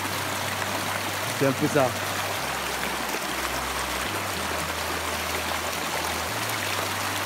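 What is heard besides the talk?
natural spring water flowing in village, west Cameroon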